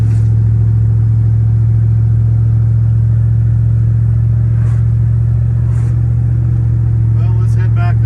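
A car engine, freshly swapped and running on fresh fuel, holds a loud, steady idle with a deep, unbroken drone throughout.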